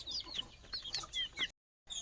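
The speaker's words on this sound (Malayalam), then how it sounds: "അപ്പോൾ നമ്മുടെ അടുത്ത് കുറച്ചധികം പൂവൻ കോഴികളൊക്കെ ഉണ്ട്." Chickens cluck on a poultry farm with roosters and chicks. There are a few quick, faint calls close by, then a short silence.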